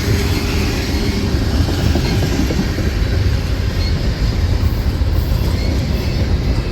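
Freight train passing through Durand, likely bound for Flint, a loud, close, steady rumble and clatter of rolling cars and wheels, slowing slightly, with no one talking.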